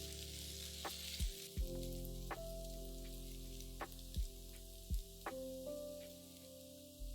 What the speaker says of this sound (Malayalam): ഇത് രണ്ടും കൂടെ ഇട്ട് ജിഞ്ചർ ഗാർലിക് പേസ്റ്റിൻ്റെ പച്ചമണം മാറുന്നവരെ വഴറ്റുക